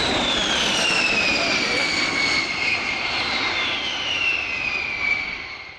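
Boeing B-52H Stratofortress at RAF Fairford with eight jet engines, a loud continuous roaring whine with a sweeping high-pitched tone as the bomber passes, with a commentator's voice heard through the roar.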